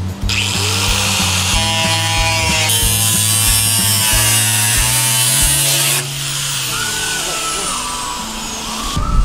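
Angle grinder with a cutting disc slicing through the thin steel wall of a shipping container to open a window, a loud steady high whine with the motor pitch shifting under load, alone without talk.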